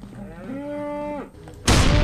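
A cow moos once in a horror video game, a long drawn-out low call that stands alone and close, then cuts off into a sudden burst of loud noise.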